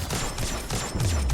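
Scout rifle shots in the video game Destiny 2, a quick run of sharp, moderately loud reports picking off distant enemies, with no talk over them.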